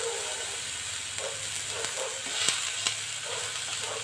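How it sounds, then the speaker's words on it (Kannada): Capsicum and cucumber frying in a pan over a medium flame give a soft, steady sizzle with a few faint stirring clicks, and the sound stays even and fairly quiet throughout. "ಕ್ಯಾಪ್ಸಿಕಮ್ ಹಾಕ್ಕೊಂಡು ಮೀಡಿಯಮ್ ಫ್ಲೇಮಲ್ಲಿ ಇಟ್ಕೊಂಡು ಇದನ್ನು ಸ್ವಲ್ಪ ಫ್ರೈ ಮಾಡ್ಕೊಳ್ಳೋಣ"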